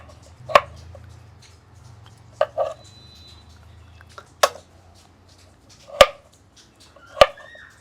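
Peeled potatoes cut into small pieces on a board, five or six sharp isolated knife chops spaced irregularly over a quiet background.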